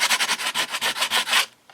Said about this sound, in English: I'm actually going to take some sandpaper, and I kind of want to sand some of these